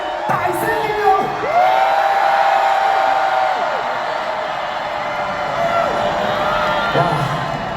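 A concert audience in a Hong Kong arena cheers and shouts in one sustained, loud roar. A singer's amplified voice rises over the crowd at moments.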